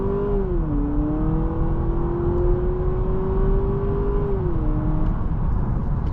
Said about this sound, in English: Foot to the floor, let's test the acceleration.